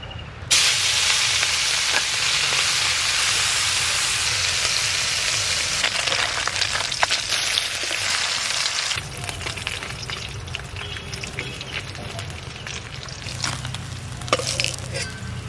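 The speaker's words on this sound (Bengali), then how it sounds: "বাকি মাছগুলো আমি ভেজে নেব।" Small fresh river fish fry in hot oil, a loud, steady sizzle and hiss that carries on without a break, with a brief shift in tone partway through and no talk.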